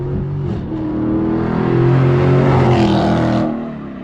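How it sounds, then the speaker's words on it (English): A Dodge Challenger Scatpack with its mid muffler and resonators deleted roars past. The loud, deep exhaust rumble builds as the car nears, then fades sharply as it moves away. "I got a flyby video with mids off,"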